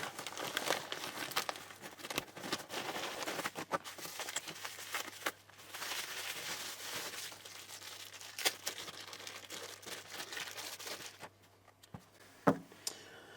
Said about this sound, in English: I'm going to tear in, and then we'll take a closer look.